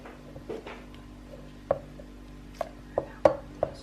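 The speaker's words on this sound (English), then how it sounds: "Now I'm just going to go stir this in nice and thoroughly with this good old spoon here." A metal spoon stirring tomato soup in a pot clinks and taps against the side in a handful of sharp, separate knocks, close and fairly quiet, with no one talking.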